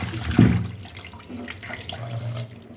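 Water runs from a tap while fish are washed in a home kitchen, a soft uneven splashing stream with a brief louder gush near the start and faint clatter.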